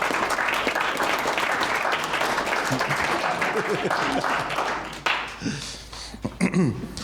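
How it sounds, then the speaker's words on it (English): Audience applause from a seated group at a workshop, steady dense clapping filling the first five seconds, then thinning into scattered claps as voices begin to talk over it. "Oh, we're getting applause."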